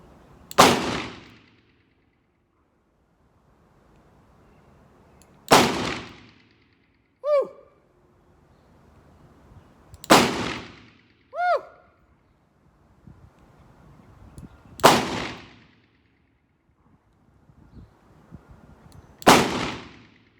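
Five loud, sharp gunshots from a Marlin 94 rifle chambered in .44 Magnum ring out at roughly five-second intervals outdoors. Quieter metallic clacks of the action being worked fall between some shots.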